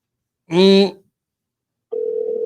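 After a brief spoken word, a telephone dial tone starts and hums steadily at one pitch after an accidental hang-up, clear and alone.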